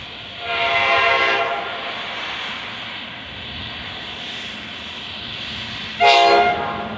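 A westbound NJ Transit Bombardier ALP-45DP locomotive, number 4506, rolls through Middlesex, New Jersey, with a steady rumble, giving one horn blast early and a second short, louder blast near the end.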